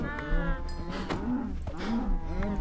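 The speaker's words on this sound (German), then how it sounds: "Okay, das war jetzt die letzte Kuh." Cows in the Minecraft video game moo repeatedly, several overlapping low drawn-out calls close together over a steady game background.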